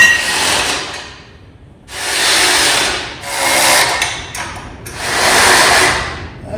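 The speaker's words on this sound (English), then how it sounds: "so now we can tighten them down" Suspension and sway bar bolts on a 1970 GMC 2500 pickup are tightened with a hand tool, giving four close, sustained bursts of gritty ratcheting and rubbing noise separated by brief pauses, with no talking.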